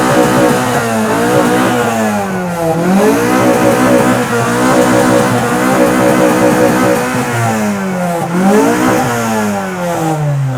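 Turbocharged Honda Civic EK9 engine at a motor show, revving hard and loud up close, its pitch rising and falling in repeated sweeps with a rich harmonic growl and no speech over it.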